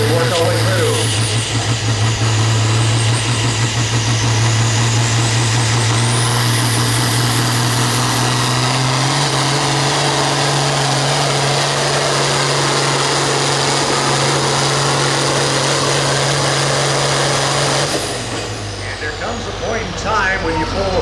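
A farm stock pulling tractor's engine roars at full throttle during a fall tractor pull in Tipton, a loud steady drone with a rising pitch that drops near the end, while an announcer talks over it.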